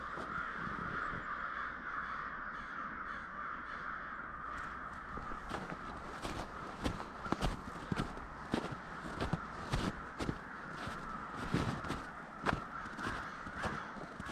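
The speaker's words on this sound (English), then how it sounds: "they call them a murder of crows for something, no doubt" Crows caw in woods along Sawmill Creek in North America, a steady chorus of repeated harsh calls alongside crunching footsteps on a forest walk, fairly near and constant throughout.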